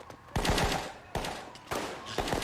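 Gunfire in a scene from the TV show The Wire: four sharp, loud shots spaced roughly half a second apart, each ringing briefly before the next.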